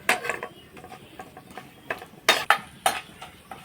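Raw banana slices stir-fried on a low flame, a spatula scraping and tapping against the pan in uneven bursts over a faint background sizzle, with a few sharper clanks near the end.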